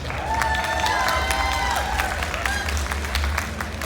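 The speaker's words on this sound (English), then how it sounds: "Clap it up for them." A large expo crowd at a D23 Disney panel claps and cheers in a dense, steady roar of applause, with voices calling out and whooping over it.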